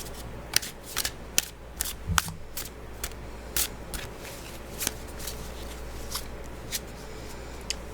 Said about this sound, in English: let's draw a tarot card